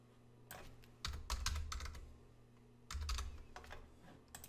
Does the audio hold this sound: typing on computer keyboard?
yes